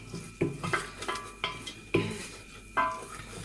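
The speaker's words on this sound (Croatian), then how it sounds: "Mešamo naravno još koji minut i ovo brašno malo da se proprži uz ovaj luk." A spoon stirs flour and onion in a pot for a roux, giving a series of distinct scraping, clinking strokes roughly every half second against a soft sizzle in a quiet kitchen.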